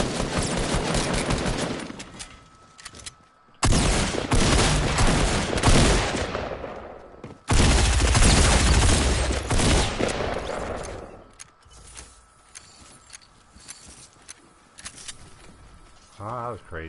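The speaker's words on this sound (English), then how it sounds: "You got to figure, the heavy shotgun is one big shot." Heavy shotgun fire in Fortnite, loud blasts packed into two long volleys with quieter gaps between, while a player keeps talking over the action.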